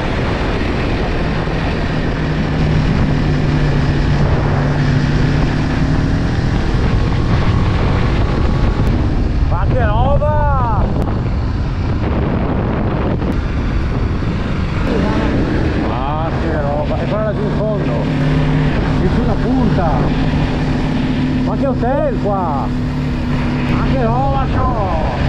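Motorcycle riding the coastal state road from Recco toward Portofino and the Cinque Terre, with a steady engine drone and heavy wind rush throughout, plus brief rising-falling warbles now and then.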